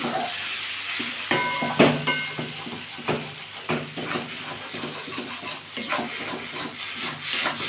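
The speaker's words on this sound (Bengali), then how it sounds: "চিংড়ি মাছটা দিয়ে আমি খানিকক্ষণ ভেজে নিয়েছি" Shrimp frying in a pan: steady sizzle under repeated close scraping and stirring clicks of a utensil against the pan, uneven in rhythm, with no voices.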